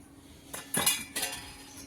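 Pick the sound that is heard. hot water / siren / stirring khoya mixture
stirring khoya mixture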